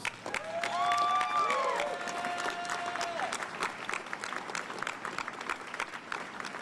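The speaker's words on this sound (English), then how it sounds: "But can we all get a round of applause for the commissioners?" Outdoor crowd applause for commissioners at a Pride flag raising with the mayor, many people clapping and a few cheering. A brief tonal whistle rises over the clapping early on, then the applause thins and trails off.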